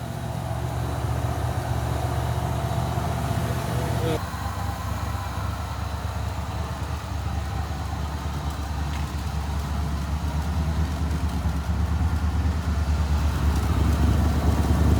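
A 1986 Ford F150 truck engine, freshly fitted with a replacement fuel system and smoking and leaking, runs at a steady rough idle, a loud low rumble that continues alone throughout.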